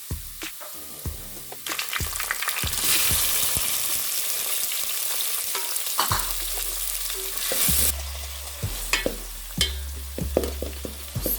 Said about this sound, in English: I am going to add in my tomatoes.